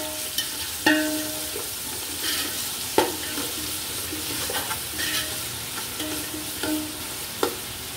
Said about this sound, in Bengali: এবার আমি এই তেলে আরো কিছুটা পেঁয়াজ দিয়ে দিব পোলাওয়ের জন্য।